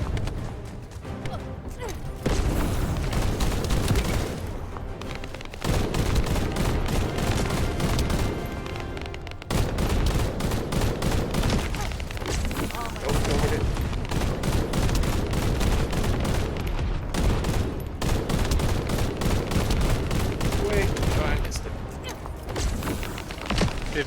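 Sustained gunfire from weapons in The First Descendant video game, dense continuous shooting bursts with brief pauses, loud and close throughout.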